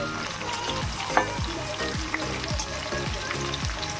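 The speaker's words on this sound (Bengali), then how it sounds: "পেঁয়াজগুলো এবার দিয়ে দেবো তেলের উপরে।" Onions, green chillies and tomatoes fry in hot oil for a chicken curry, a constant loud sizzle cut by regular spatula scrapes roughly every half second against the pan.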